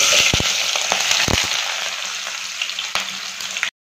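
Onions and white cumin seeds frying in hot oil give a loud, steady crackling sizzle with a few sharp pops near the start, cutting off abruptly at the end.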